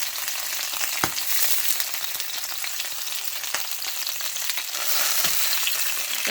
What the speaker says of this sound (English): fry the meat.